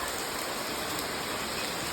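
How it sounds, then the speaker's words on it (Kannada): Sudden heavy rain falls in a dense, steady roar, close and unbroken from start to finish, with no voices. "ತುಂಬ ಜೋರು ಮಳೆನೇ ಬರ್ತಾಯಿದೆ ನೋಡಿ."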